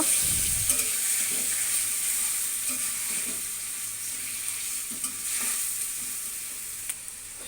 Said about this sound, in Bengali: এখন এগুলো দিয়ে দেবো ভালোভাবে মশলাটা এখন কষিয়ে নেব